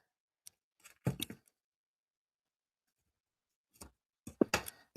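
Scissors snip through ribbon during card making, two short bursts of crisp cutting strokes separated by a quiet pause, close and fairly faint.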